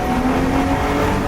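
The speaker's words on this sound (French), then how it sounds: "Le kickdown, c'est quand on appuie sur la pédale d'accélérateur à fond et qu'on insiste encore" A BMW E30 with a ZF 4HP22 automatic gearbox kicks down under full throttle, the engine revving hard with a loud, sustained, steady drone heard up close from inside the car.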